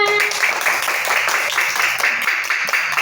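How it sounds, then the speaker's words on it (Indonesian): Schoolchildren clap together in a classroom during a lesson, a dense, steady patter of many small hands that keeps going with no break. "Tepuk tangan anak-anak."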